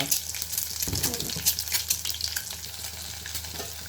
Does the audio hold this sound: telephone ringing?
no